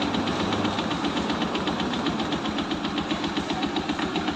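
A Yamaha Sniper 135 motorcycle engine idles with a flat-side clutch fault, producing a rapid, steady metallic knocking close up and alone, with no talk.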